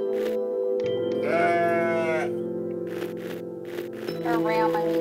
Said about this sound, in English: sheep. Or ram, I mean.